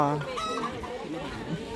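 Chickens cluck and squawk close by at a village funeral kitchen gathering in rural Thailand, with short overlapping calls and a voice talking faintly in the background.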